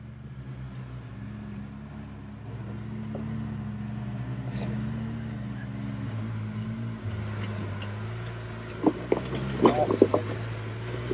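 A UTV engine drones steadily as it climbs a dry hill on smooth throttle, a low, even rumble with slight pitch shifts, joined near the end by faint knocks and a person talking.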